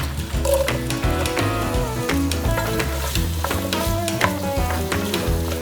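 Chopped vegetables, including celery and red beets, sizzle loudly in an oiled pan, a dense steady frying hiss with repeated scraping and stirring strokes throughout.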